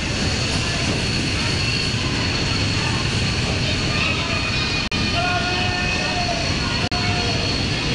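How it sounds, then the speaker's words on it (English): Diesel locomotives depart Central Station in New South Wales, a loud continuous engine roar and rumble with a steady drone that holds throughout, with brief dropouts. "locomotives are now seen once again departing Central Station on their trip to Clyde."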